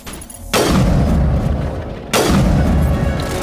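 Two heavy, booming weapon shots in the Mass Effect video game, each a sudden loud blast trailing into a long rumbling decay, the second arriving about one and a half seconds after the first.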